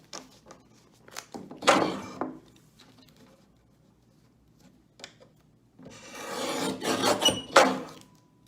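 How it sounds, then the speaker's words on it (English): A paper cutter trims the edges of magazine pages, making two close, rasping slicing strokes with quieter rustling between them and no talking. "I'm also going to use a paper cutter just because it's a bit quicker"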